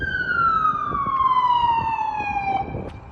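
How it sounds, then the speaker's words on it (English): A loud ambulance siren wails close by, its tone sliding steadily downward as it passes, with traffic noise underneath. "Ambulance."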